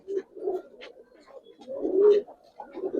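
Pigeons of a coloring breed, including a hen, coo in low repeated throaty phrases from nearby, with a louder coo around the middle and no talk over them.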